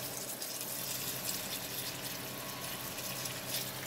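A steady, fairly close rush of water pours without pause into a hydroponic grow bag holding a cannabis plant, refilling and flooding it, with no voices.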